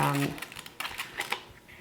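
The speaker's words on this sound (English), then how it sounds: "Just giving them a little spray." A handheld spray bottle mists stored dahlia tubers packed in vermiculite: a few short, soft hissing bursts spaced across a quiet background, close to the mic.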